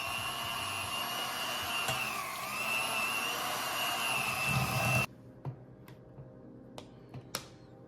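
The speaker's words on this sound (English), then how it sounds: "I'm going to use my hand mixer to begin blending this." An electric hand mixer whirs steadily while beating a cream cheese mixture, loud and continuous for about five seconds before cutting off, followed by a few faint clicks and taps.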